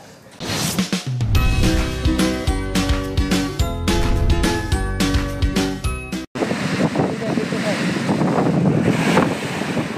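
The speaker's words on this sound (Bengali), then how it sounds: "বাঁধভাঙা ঢেউ আছড়ে পড়ছে বালুকা বেলায়।" Cyclone Remal wind and waves crashing on a beach: after several seconds of music, a roaring gust of wind buffets the microphone over the continuous wash of heavy surf.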